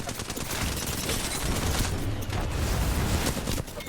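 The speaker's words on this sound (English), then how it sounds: "Why are there 3 people shooting at me, bro?" Several players fire at once in a video game, a dense, continuous barrage of gunfire with overlapping bursts and booms filling the whole stretch, loud and close.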